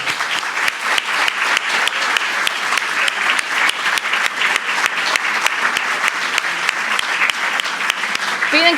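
Loud, sustained applause from a theatre audience, dense clapping filling the whole stretch without a break, with a few voices mixed in.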